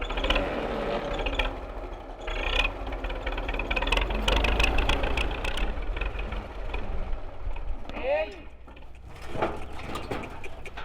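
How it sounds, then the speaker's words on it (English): An old Soviet tractor engine runs steadily with a low, knocking mechanical rumble and rattling parts, loud and close throughout, with a brief squealing sweep near the end. "learn how to handle the clutch on an old Soviet tractor"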